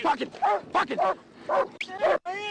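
A police dog barks, yips and whimpers during a roadside arrest by state troopers, loud and close in repeated bursts with officers shouting over it.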